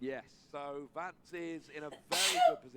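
A single sharp sneeze from someone near a Pokémon trading card game championship commentary desk, bursting out right after calm speech from a commentator.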